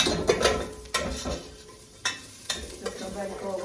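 Garlic sizzling in a hot pan while being stirred, a steady frying hiss broken by several sharp utensil scrapes and clinks, close and moderately loud, with no talking.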